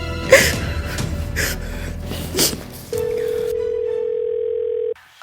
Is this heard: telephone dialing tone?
yes